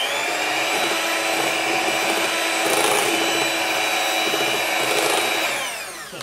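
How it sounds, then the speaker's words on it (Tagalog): An electric mixer runs on low speed through cookie dough made with flour and vanilla, giving a steady, close whirring hum that holds for several seconds and then tapers off. "Then mix din natin on low speed."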